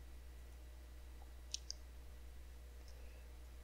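Two quick, faint clicks of a computer mouse sound close together against a low steady electrical hum, followed by one softer click a moment later.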